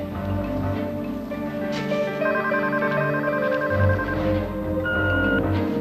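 A telephone rings repeatedly with a bright electronic tone in a household scene, several bursts over a low musical background.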